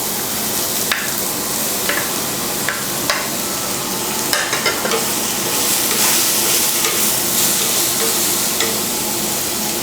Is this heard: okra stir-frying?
yes